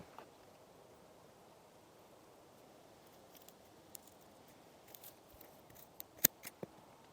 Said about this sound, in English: So there's one damaged tuber, and we are going to go ahead and cut it out.